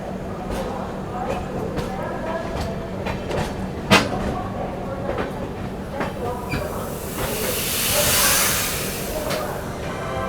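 A train pulls out of busy Jhansi Junction railway station, a broad rumbling hiss of rolling wagons with a sharp metallic clank partway through, amid platform voices and a brighter hiss building toward the end.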